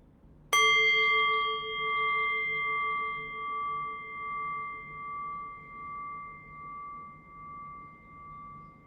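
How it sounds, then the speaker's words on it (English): A single meditation bell strikes once, clear and resonant, then its pure tone rings out and decays slowly with a gentle pulsing shimmer over several seconds in a quiet room. "in a few moments then I'll ring the bell and I'll guide us in"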